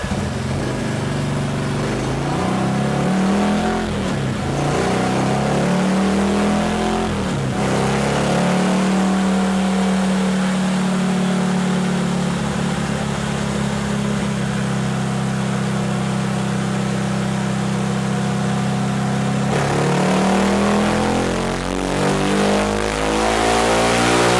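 A Honda Wave 125 LED motorcycle fitted with an NKRacing intake pipe revs steadily and loudly up close, its engine note rising and falling in several pulls before holding a sustained drone, then dropping and climbing again near the end.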